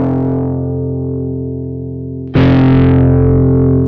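A sustained, heavily processed guitar tone from an effects pedal filled with liquid decays slowly, then a louder distorted chord cuts in and rings steadily.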